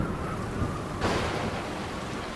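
A storm near Palau in 1783 roars as a dense, steady rain wash, with a sudden broad swell like a thunder rumble about midway, then the downpour continues evenly.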